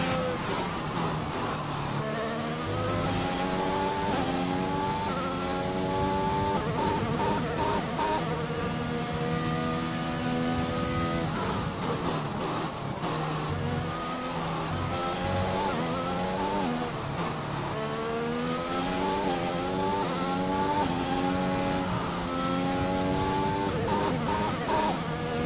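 High-revving Formula 1 race car engines in the F1 2021 game on a final race lap, a steady whining drone with rising and falling gear sweeps, loud and continuous throughout.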